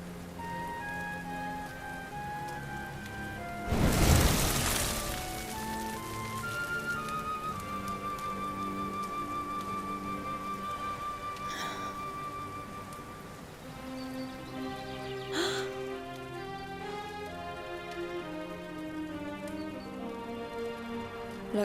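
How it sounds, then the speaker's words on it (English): Rain patters steadily in a scene from the video game Dragon Quest XI, a soft continuous wash beneath layered sustained musical tones, with a brief louder burst early on. "Looks like the rain's dying down."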